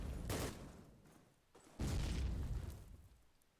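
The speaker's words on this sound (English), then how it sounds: "another couple of nades into the ledge room" Grenade explosions in a Call of Duty match: two muffled booms about a second and a half apart, each a low thud that fades slowly, heard at a distance with no talking.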